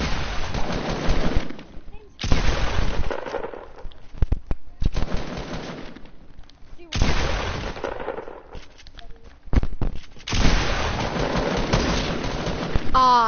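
Gunfire in a video game, several bursts of rapid shots separated by short pauses, loud and close, with some sharper single cracks among them.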